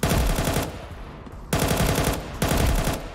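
AK rifle gunfire in the video game Counter-Strike 2: three loud sustained bursts of rapid automatic fire, each about a second long, separated by brief pauses.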